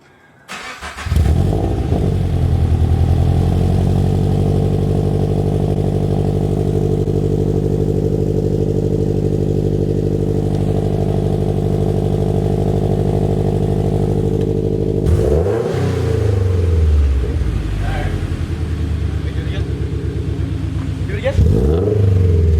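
A Subaru engine fitted with a JDL header starts, then idles with a deep, steady rumble. A couple of sharp revs follow near the end, and voices are heard over the engine.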